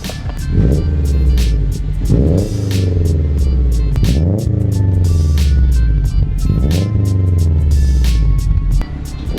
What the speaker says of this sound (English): I'm gonna give it a couple revs and see what kind of smoke we get